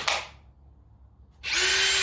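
A Ryobi HP compact drill driver spins up twice, a loud close whir in a short burst and then again after a pause, with a steady high motor pitch.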